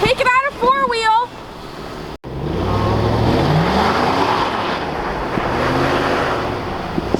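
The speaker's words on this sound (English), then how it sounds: "Take it out of four-wheel." A truck drifts out of four-wheel drive, and its engine roars steadily with a rising and falling pitch under heavy wind rush. It follows a short burst of talking.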